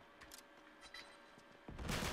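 A gunshot in the multiplayer shooter Uncharted 3, faint scattered game noises followed by a sudden loud burst of fire near the end.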